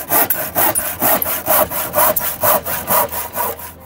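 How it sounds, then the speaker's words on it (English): Hand saw cutting through a wooden gravel board, about a dozen steady rhythmic strokes of rasping wood, close and loud with no talking. "I've just used a saw to cut either side"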